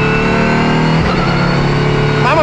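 Ligier JSP4 prototype race car with a V6 engine, heard onboard as a loud, steady engine roar whose pitch climbs sharply as it revs near the end.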